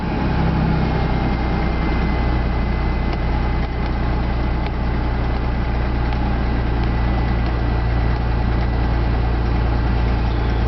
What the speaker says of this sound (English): Hear that noise? That's an exhaust leak.